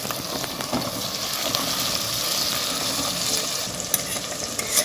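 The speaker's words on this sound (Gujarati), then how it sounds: "હવે આપણે એમાં નાખી દઈશું ટામેટા ટામેટા કાપ્યા છે મીડિયમ સાઈઝના" Chopped medium-sized tomatoes tipped into a hot pan for Kathiyawadi guvar dhokli and stirred, giving a steady, close sizzle with scraping spoon strokes and a few sharper clinks near the end, no voices.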